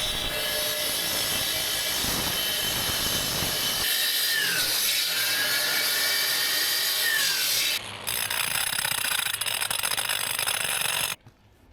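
A saw grinds steadily through a brick retaining wall block that is reinforced with rebar, and the harsh abrasive cutting runs loud and continuous. Near the end the sound briefly changes pitch before it stops abruptly.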